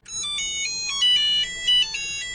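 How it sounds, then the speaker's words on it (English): A short, bright electronic ringtone melody of quick beeping notes, the classic old Nokia mobile phone tune, played by a computer as an alert, clear and alone. "when a successful snapshot's done, it will play the old Nokia ringtone"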